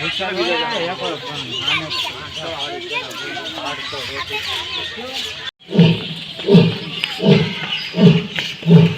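A rooster at Sakkarbaug zoo in Junagadh calls loudly. A stretch of warbling, crowing cries gives way to a run of short, pulsing clucks, with visitors' voices nearby.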